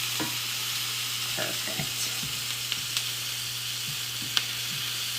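Steak sears and sizzles in a hot pan for a stir fry, a steady broadband frying hiss with occasional small pops and scrapes; a voice speaks briefly.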